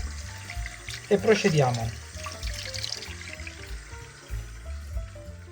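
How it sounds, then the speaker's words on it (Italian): Anchovies rinsed under a running kitchen tap, water splashing and trickling in a sink while someone speaks Italian over it. "Passiamo a lavare le alici, le sciacquiamo"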